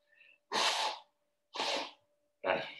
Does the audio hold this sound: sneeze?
yes